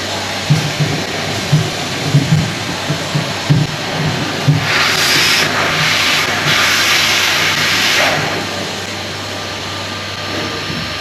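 A vacuum cleaner runs continuously with a loud, steady whooshing hiss. A few soft knocks come early, and the motor's pitch shifts slightly midway.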